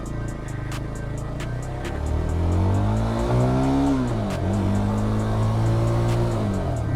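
A Yezdi Scrambler 350 motorcycle engine revs in first gear, a close, loud mid-range exhaust note that climbs, dips briefly and climbs again with rising and falling pitch.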